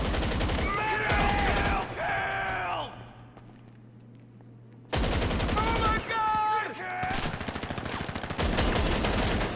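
Sustained automatic gunfire from GTA 5 Online, a magazine dump in loud rapid bursts that break off for a quiet pause and then resume, with vocal sounds such as sighs or groans mixed in.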